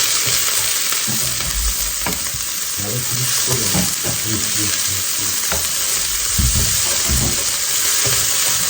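A spicy stir-fry with fish and onion is tossed in a pan over high heat, making a loud, continuous sizzle with rattling and scraping from the stirring throughout.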